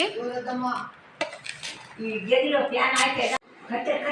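Avakaya mango pickle is mixed in a bowl, with scraping and clinking of a utensil against the dish underneath a person's voice and a brief chuckle.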